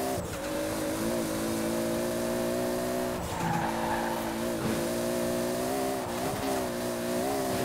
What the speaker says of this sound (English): Absolutely nailing that limiter.